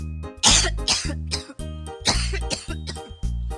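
A young voice coughs repeatedly in a hoarse, rhythmic fit, several harsh coughs in a row close up, with brief throat-clearing between them.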